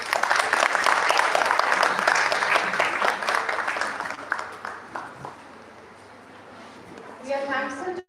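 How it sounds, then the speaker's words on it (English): Audience at a college event gives a guest a big round of applause, a dense, loud burst of clapping that gradually thins and fades, with some background voices near the end. "Huge round of applause for ma'am."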